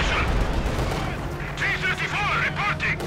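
Sniper rifle fire in the World War II strategy game Company of Heroes 2, sharp shots amid a constant rumble of battle, with a commentator talking over it and whistling effects near the end.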